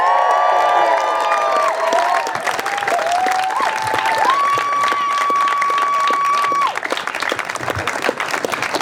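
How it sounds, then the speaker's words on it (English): A crowd at the March for Black Life claps and cheers loudly and continuously, with whoops and raised voices riding over the sustained applause. "let's give it up one more round of applause for JoJo"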